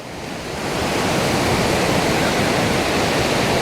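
Choppy Gulf of Mexico surf at a Padre Island beach, a continuous loud wash of breaking waves rising in the first second and then holding steady, with some wind in the mix.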